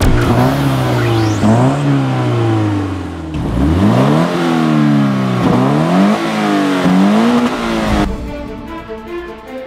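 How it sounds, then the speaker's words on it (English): A Scion FR-S's 2-liter, 200-horsepower horizontally opposed engine revs repeatedly, pitch climbing and dropping in several loud bursts, close by, then settling toward idle. "This sweet little Scion FRS has a 2-liter, horizontally opposed, 200 horsepower engine"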